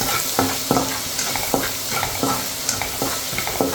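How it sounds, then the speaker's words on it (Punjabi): Garlic sizzles loudly in hot butter for a tempering for a corn-cob recipe, a steady frying hiss broken by regular scraping strokes of a spoon stirring through the pan, close up with no voices. "ਜਿਹੜਾ ਇਹ ਤੜਕਾ ਲਗਾਣਾ ਹੈ ਇਹ ਬਟਰ ਵਿੱਚ ਹੀ ਲਗਾਣਾ ਹੈ"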